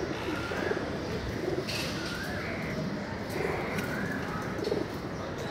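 Teddy pigeons coo over and over in soft, throaty, rolling calls close by, with some faint chirps and light background rustle, no talking.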